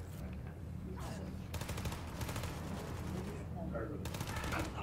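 Rapid gunfire from weapons fired from the hip in the video game Wolfenstein 2, loud bursts of repeated shots over constant background noise, with a speaking voice mixed in.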